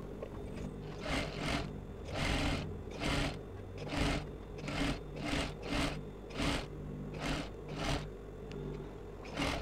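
A sewing machine stitching an elastic casing on an off-the-shoulder structured sleeve, steady rhythmic bursts of whirring and rasping, about a dozen regular pulses at close range with no talk.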